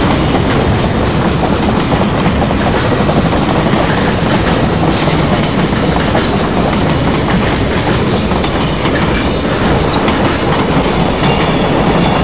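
Trains number 195 and 8 meet at Bolstad, a steady, loud rolling rumble with rhythmic clickety-clack of wheels over rail joints filling the whole stretch, no voices.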